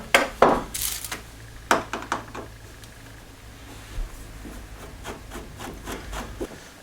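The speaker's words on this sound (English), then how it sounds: "Next I'll have a go with these side strips for the carpet." Car carpet side strips are pried and pulled loose, giving scattered scraping, rubbing and sharp knocking sounds at close range, busier at first and then sparser.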